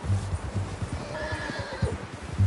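A horse in Red Dead Redemption 2 whinnies while its hooves clip-clop steadily underneath, the neigh rising clearly over the rhythmic footfalls at moderate volume.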